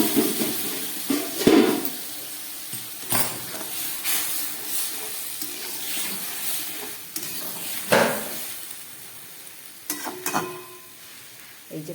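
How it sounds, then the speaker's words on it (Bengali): Vegetables with jackfruit seeds tipped into a simmering vegetarian curry in a pan, giving a close hiss and sizzle with scraping stirs and clatters, with no one speaking. "এর মধ্যেই আমি এই সবজিটা ঢেলে দিচ্ছি।"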